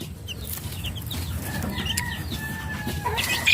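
Mother hen clucks and calls in a coop, close and repeated, with soft chick peeps over a low rustling background.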